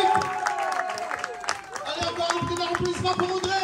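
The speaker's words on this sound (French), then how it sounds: "Allez, encore un petit applaudissement" A concert crowd applauds after a live cover band plays a song: a sustained, fairly loud patter of clapping with scattered cheers, while someone talks over it through the PA.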